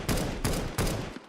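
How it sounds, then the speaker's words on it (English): Three heavy auto sniper rifle shots ring out in Counter-Strike 2, evenly spaced about a third of a second apart, each a loud, close blast with a short decaying tail. "And finally, the auto sniper for T-side."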